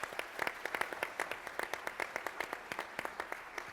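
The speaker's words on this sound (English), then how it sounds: "Let's join and applause our guests today" An audience applauds guest speakers at a business tech talk event, a steady patter of many hands clapping at moderate distance, continuous and fairly faint throughout.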